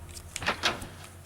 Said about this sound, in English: Pop through the door.